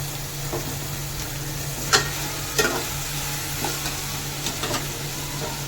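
Tomatoes frying in a pan for sundakkai kuzhambu, giving a steady low sizzle with a few sharp clicks and scrapes of stirring throughout.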